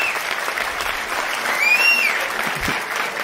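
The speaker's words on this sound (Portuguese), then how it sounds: "Mas aplausos pro Sérgio." Audience applause for a performer at a live comedy challenge show, steady dense clapping from a crowd filling the whole stretch, with a brief bright whistle-like tone rising through the middle.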